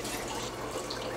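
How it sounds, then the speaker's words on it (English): Water runs steadily from a refrigerator door dispenser into a cup, a continuous close splashing stream with no talking. "getting water out of the refrigerator, by the way"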